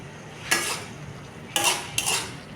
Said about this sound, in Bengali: দেখো মোচাটা অল্প সেদ্ধ হয়েছে, আমি আবারও নাড়াচাড়া করছি